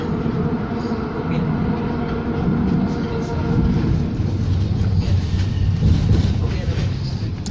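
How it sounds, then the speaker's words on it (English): An ST-160 LRT train on the Capital Line rumbles past nearby with a continuous rolling roar that grows slightly heavier toward the end. "There's the ST-160 LRT on the Capital Line."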